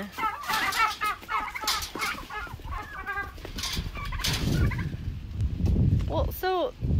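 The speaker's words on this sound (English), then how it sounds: "this is a hen inside fighting with my turkey" A turkey and a hen fighting at close range, with loud repeated gobbling, clucking and squawks in an agitated, overlapping burst, ending in a sharp gobble.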